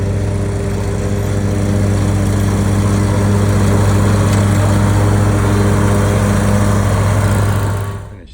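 A lawn mower cutting an overgrown lawn, its engine droning loud and steady close by for several seconds before cutting off at the end, with no talking.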